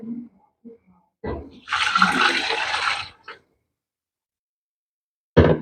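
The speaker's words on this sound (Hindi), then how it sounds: "इसमें पानी ऐड करेंगे।" Water poured into a pot of rice for chicken mandi: a brief tap and clink, then a loud, steady rushing gush lasting just over a second, followed by a short splash and a final clatter after quiet.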